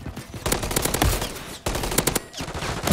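Loud automatic gunfire in the video game Modern Warfare 3, rapid machine-gun bursts in close succession with short pauses between volleys, heard up close.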